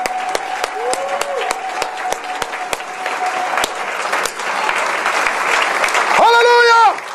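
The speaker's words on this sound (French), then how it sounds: "Quelqu'un offre une acclamation à Jésus ce matin." A church congregation claps during a French-language sermon. The claps are sharp and separate, coming in a loose rhythm and building into denser applause, and a voice rises over them near the end.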